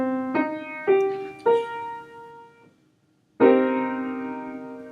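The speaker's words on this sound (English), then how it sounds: "The common name for this 7th chord is a minor 7th chord" A minor seventh chord rings out clearly, its notes entering one after another and then struck together, each sustaining and decaying cleanly with no talking.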